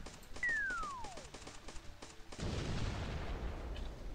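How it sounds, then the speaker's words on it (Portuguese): A grenade goes off in the mobile shooter Team SIX Armored Troops, a whistling falling tone and short tapping clicks before a sudden loud blast that leaves a long, broad rumbling wash. "Vamos tacar a granada aqui."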